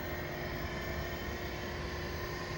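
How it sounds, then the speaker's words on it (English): An Amiga 2000 computer's hard drive spins up at first power-on. A steady, low-level whirring hum with a faint constant tone runs unchanged throughout, with no speech. "I hear the hard drive spinning up."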